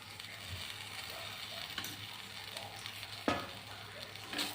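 Oil sizzling under a bottle gourd paratha on a hot griddle, a soft steady crackle close by, with a few sharp scraping or tapping clicks from a spatula, faint overall and no talk.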